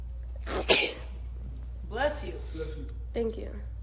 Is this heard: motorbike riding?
no